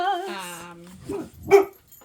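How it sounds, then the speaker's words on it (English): A dog gives a drawn-out whining yelp followed by a short bark, fairly close, with a brief pause between them. "Oh, there go the dogs."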